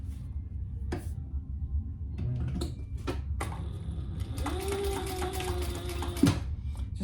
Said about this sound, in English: sew across the top to anchor those